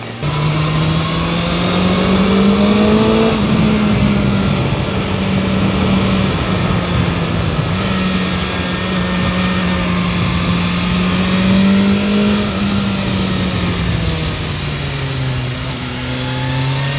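BMW S1000XR motorcycle engine running in dynamic mode, a loud continuous drone that rises and falls gently as revs shift, heard from the rider's position with wind rush throughout and no talk.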